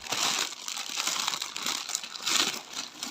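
Crinkly packaging of a cross-stitch kit being unwrapped by hand, a steady close run of plastic rustling and crumpling for a few seconds with no voices.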